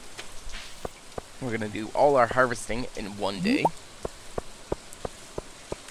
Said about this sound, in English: Get it all done. Out of the way while it's raining like this.